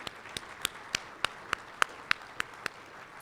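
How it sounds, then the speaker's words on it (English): Sparse clapping at an outdoor-stewardship awards ceremony: about a dozen distinct claps in a slow, steady rhythm, fairly faint, with no voices. "Let's give them applause."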